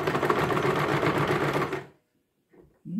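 A sewing machine stitches a kimeshek headdress in a fast, steady run of close mechanical clatter for nearly two seconds, then stops, leaving near silence with a few soft handling noises.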